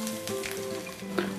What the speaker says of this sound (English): let the oil sizzle